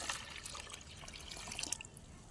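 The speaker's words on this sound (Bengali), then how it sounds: "এবার এই তরলটা এখানে ঢেলে দেব" Liquid organic garden fertilizer poured from one container into another, a faint, continuous trickling and splashing stream with no one talking.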